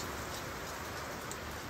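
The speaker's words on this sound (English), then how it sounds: "Again, apologies for the rain." Steady rain falls on a surface outside a garage workshop, a dense, even hiss of drops with no pauses, fairly faint, continuing alone without speech.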